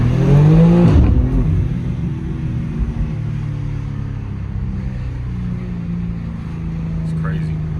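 A BMW M2's engine booms with a deep rising rev heard from inside the car, then settles into a steady low rumble that drones on for several seconds.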